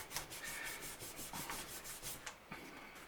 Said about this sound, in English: since these frets are so nasty, we're going to have to go through and polish them up